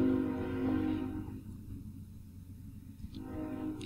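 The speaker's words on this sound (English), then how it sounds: "there is a train going by" A train rumbles past in a Minetest game, a steady low mechanical drone with a brief horn-like tone near the start that fades before rising slightly again.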